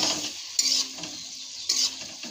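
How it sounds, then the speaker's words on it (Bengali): Eggs being stirred into cooked masala in a pan for Bengali egg kalia: close scraping and clinking of a spoon against the pan over a light sizzle, with two sharper scrapes standing out. "আমি এখানে এখন ডিমটা দিয়ে মিশিয়ে নেব।"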